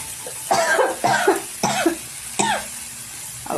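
A person coughs four times in separate hoarse bursts, close by, while cooking eggplant and dal in a home kitchen; no one speaks.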